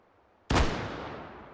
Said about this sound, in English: Let's shoot a bit offhand.